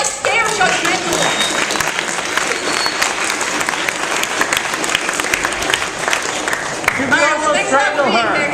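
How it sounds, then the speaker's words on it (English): Convention panel audience applauding, a dense, loud wash of many hands clapping that carries on steadily, with voices rising over it toward the end. "if we can get a round of applause"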